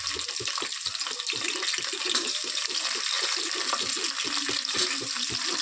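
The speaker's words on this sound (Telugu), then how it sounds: "ఇప్పుడు తర్వాత ఉల్లిపాయలు పచ్చిమిర్చి వేద్దాం" Onions and green chillies dropped into a hot frying pan while coconut rice is being made, giving a continuous loud sizzle with crackling and spattering that runs steadily throughout.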